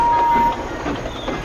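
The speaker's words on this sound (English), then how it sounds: "The first train of the day is Henry's stopping service" A train rumbles close by with a steady mechanical roar and a high tone that cuts off partway through.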